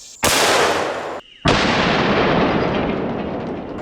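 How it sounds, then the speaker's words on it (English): Two massive .500 Magnum gunshots firing the Grand Canyon round at a target table outdoors, each a sudden deafening blast followed by long rolling echo, the second ringing out to the end. "That's gonna be the first round we shoot."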